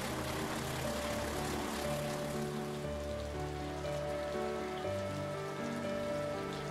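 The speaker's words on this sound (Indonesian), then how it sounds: "dengan kondisi hujan yang lebat" Heavy rain falling steadily while a KA20 Argo Gede passenger train runs near Purwakarta, Indonesia, a dense continuous hiss with low rumbling and sustained tonal hum from the train throughout.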